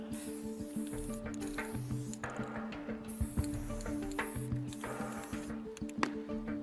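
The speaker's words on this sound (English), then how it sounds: "Using spray paint, I'm going to predict something about one of you judges right now." Bursts of hissing spray from a spray paint can come in repeated pulses with short pauses between, close by and fairly quiet, during a magic act on a talent show stage.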